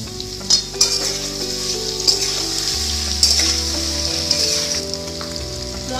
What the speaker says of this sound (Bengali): এবার আমি মশলাটাকে নাড়বো।